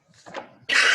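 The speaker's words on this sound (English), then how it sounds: "I gotta stop coughing" A single short, harsh cough bursts out at close range during a town conservation commission meeting held online, preceded by a faint throaty breath.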